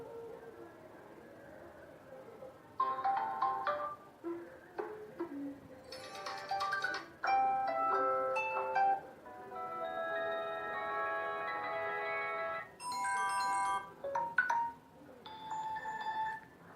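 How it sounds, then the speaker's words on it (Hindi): A Samsung Galaxy J7 Prime plays a series of melodic electronic ringtone previews, bright chiming notes in short bursts separated by brief pauses. It sounds close and fairly quiet, with no speech over it. "ये रिंगटोन है, आप रिंगटोन सिम 1 के लिए सिलेक्ट कर सकते हैं।"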